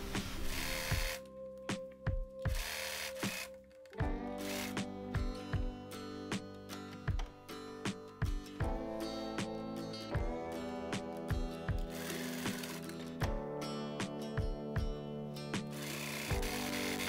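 A sewing machine stitches around a dress seam in rapid mechanical bursts, its needle chatter starting and stopping in short runs with brief pauses between, close and fairly loud with tonal motor whine.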